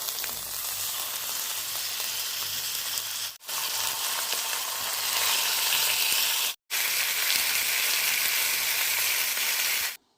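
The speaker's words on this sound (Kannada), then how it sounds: "ನಾವಿವಾಗ ಪಾಂಫ್ರೆಟ್ ಫಿಶನ್ನು ಫ್ರೈ ಮಾಡ್ಕೊಳ್ಳೋಣ" Pomfret fish fries in oil with a loud, dense, steady sizzle. The sizzle cuts out briefly twice, then carries on, and there is no talking.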